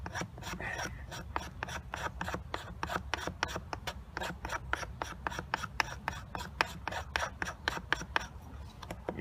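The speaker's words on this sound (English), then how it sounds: "You just go like that, you see all the shavings coming off? It's kind of like making a feather stick, but it's a lot finer." A knife shaving very fine curls from a stick of wood while preparing a fire, a steady run of quick close rasping strokes, many per second, with no talk over it.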